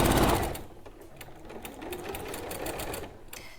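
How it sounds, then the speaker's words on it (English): A sewing machine runs in fast, even stitching bursts along the bottom edge of a tote bag pocket, close and clear, starting loud and then settling into a steadier rhythmic whir. "So I'm just stitching the bottom edge of this pocket."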